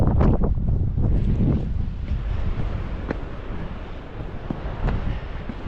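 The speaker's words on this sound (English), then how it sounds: "that wind starts cutting through you" Strong coastal wind buffets the microphone at the Giant's Causeway clifftop path, a steady loud roar with gusty rumbles and no talking.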